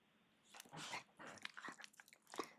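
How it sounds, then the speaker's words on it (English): A dog approaching during an interview, with close scuffling, crunching and mouth sounds in short bursts, fairly faint and with no talking. "I have a dog coming up to say hi"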